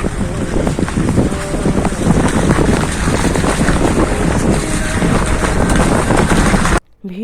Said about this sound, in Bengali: ভীষণ হাওয়া হচ্ছে, তার সঙ্গে বৃষ্টি হচ্ছে আর স্নোফল হচ্ছে